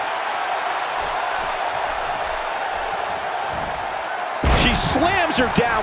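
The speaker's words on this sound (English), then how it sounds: "Slams her down with great force." A wrestler slams an opponent down onto the ring in the WWE 2K18 video game. A heavy thud lands late over a steady bed of crowd noise, with commentary talk continuing around it.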